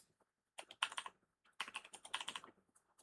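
Someone types code on a computer keyboard in a quiet room, with two short bursts of quick, close key clicks separated by a pause.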